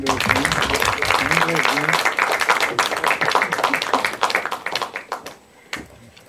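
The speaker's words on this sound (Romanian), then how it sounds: "Să-i aplaudăm!" Audience applause at a live festival event, loud and dense clapping from a crowd that thins into scattered claps and dies away near the end.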